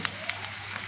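Tomatoes hiss in a hot pan for a tomato curry, a steady crackling sizzle with a few sharp pops over about a second.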